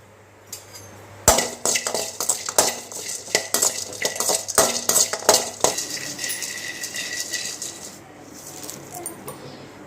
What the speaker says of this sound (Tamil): இப்போ ஏலக்காயும் சுக்கும் வறுத்துடலாங்க.